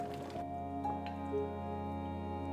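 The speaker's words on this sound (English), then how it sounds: "When the noodles are done, strain them out and place in the serving bowl." Cooked noodles tipped from a strainer into a serving bowl for noodle soup, giving a short wet drip and soft squish, then a light trickle of draining liquid over a steady low hum.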